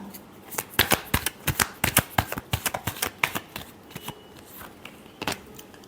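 Tarot cards being shuffled by hand, a rapid run of crisp flicking riffles in bursts, close and fairly quiet, with no talk.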